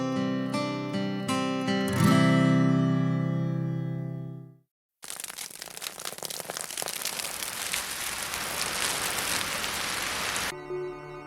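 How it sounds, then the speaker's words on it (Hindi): Steady rain pours down in an animated mountain race scene, a dense hissing wash that cuts in abruptly after a musical passage and a brief silence, then holds at an even, loud level for several seconds. "लीजिए, बारिश शुरू हो गई।"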